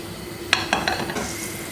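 Butter melting in a pan on the stove, a light steady sizzle with a few sharp spoon or utensil taps against the pan, close and alone.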